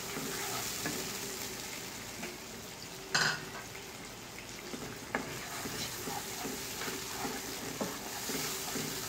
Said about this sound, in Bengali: পেঁয়াজটাকে একটু কষিয়ে নিতে হবে।